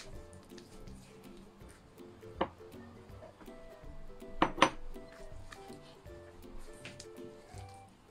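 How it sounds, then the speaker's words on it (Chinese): Sesame-stick dough of flour and liquid stirred in a bowl, heard as quiet, irregular scraping and light clinks of utensil against the bowl, with a couple of sharper knocks partway through. "再搅拌均匀。"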